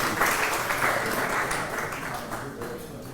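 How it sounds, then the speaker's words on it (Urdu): An audience applauds a guest at a grand ceremony, dense clapping from a crowd that rises quickly and then gradually softens. "ذکر مہنتی صاحب، بہت ساری تالیاں ہونی چاہیے مہنتی صاحب کے لیے."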